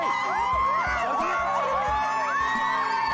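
A large outdoor crowd at a home makeover reveal cheers, whoops and claps continuously, with excited shouts and children's yells rising throughout at close, loud range.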